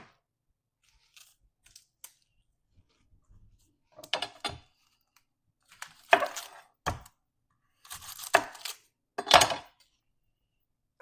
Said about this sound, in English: I'm going to start by cutting the onions.